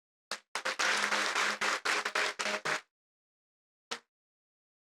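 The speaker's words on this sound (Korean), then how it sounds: "박수 한번." A church congregation at a Sunday evening service claps in a loud burst of about two and a half seconds, then gives a few brief isolated claps after a pause.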